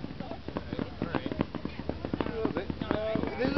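Canada Day fireworks in Saskatoon pop and crackle steadily at a distance, with many small bursts under and between voices of people talking nearby.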